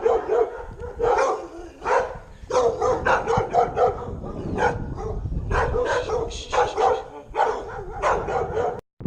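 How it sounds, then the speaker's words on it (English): Several dogs bark repeatedly in overlapping bursts in the high mountains near Cusco, loud and close, with occasional yips throughout. "There goes the dogs."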